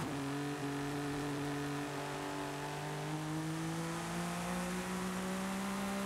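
A BMW M4 GTS in a racing video game revs steadily up toward 8000 RPM, a smooth continuous engine drone rising in pitch with a shift, loud and alone.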